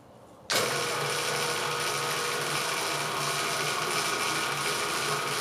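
A Vevor spiral dough mixer starts up abruptly after a quiet moment, then its mechanism runs in a loud, steady mechanical whir and rattle close by, with no talk.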